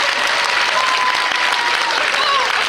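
Festival audience applauding loudly and steadily, a dense continuous wash of clapping from a large crowd with no break.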